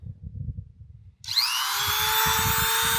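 A Dremel rotary tool starts up while sharpening a chainsaw chain, a sudden high whine that quickly settles into a steady, close, loud buzz, following a few seconds of low rumbling handling noise.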